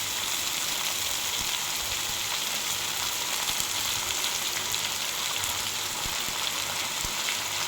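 Washed amaranth leaves sizzle in a hot pan for a tomato curry, a steady hissing fry that stays even and close throughout, with no talking.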